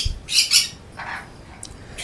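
Two loud, harsh squawks from a conure parrot close by, followed by a softer raspy call and a few faint chirps.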